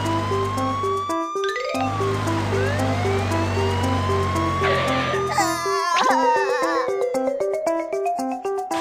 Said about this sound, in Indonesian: Mobil pemadam kebakaran